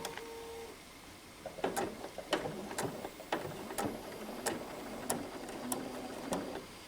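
A sewing machine stitches quilt binding in a steady run of sharp, evenly spaced mechanical bursts at close range. The whirring clatter repeats for several seconds with no talking.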